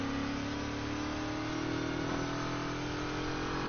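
Supercharged car in the racing game NFS Heat, its engine revving hard with a rising supercharger whine over a dense, constant roar. The engine sound is loud and unbroken throughout, with no talking.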